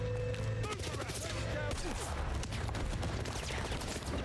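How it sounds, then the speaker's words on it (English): Dense bursts of gunfire and explosions from the video game 007 First Light crackle and boom continuously, busy and layered beneath faint game sounds. "See these explosions happening."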